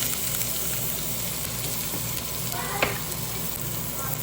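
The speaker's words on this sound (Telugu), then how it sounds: "ఇది కొంచెం చిటపటలాడినాక ఇదిగోండి తాలింపు అయితే వేగింది." Steady crackling sizzle of curry leaves and dried red chilies tempering in hot oil, with a brief sharper burst of popping midway, no voices.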